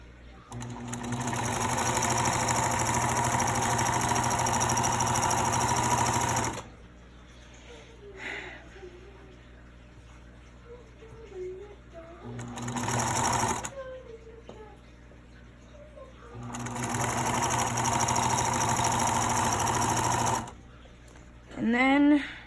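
A sewing machine stitches fabric in loud steady runs, stopping and starting three times, with quieter gaps between bursts where a voice speaks.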